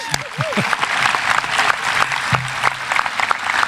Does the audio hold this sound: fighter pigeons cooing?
no